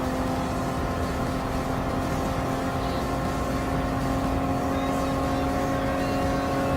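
Gran Turismo Sport GR Supra GT Cup race cars at Circuit de la Sarthe, their engines droning in a steady, continuous tonal roar at even loudness throughout, with no talking.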